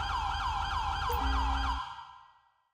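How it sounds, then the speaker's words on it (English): A police siren wails in a regular rising and falling cycle in the video game GTA V with the LSPDFR mod, loud and close before it cuts off and the remaining noise fades to silence. "That siren is gonna make me lose my mind here in a second."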